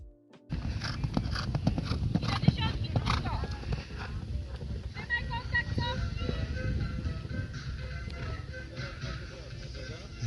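A 4-year-old horse's hooves during a 120 cm show-jumping round at its first competition, a steady clip-clop of footfalls with arena noise and people talking throughout.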